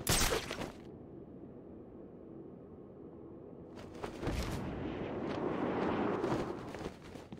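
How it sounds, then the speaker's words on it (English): Batman Arkham City gunfire breaks out in two loud broadband blasts, one at the start and another midway, each followed by a long rumbling, noisy tail in the game world. "The gunshot came from the bell tower."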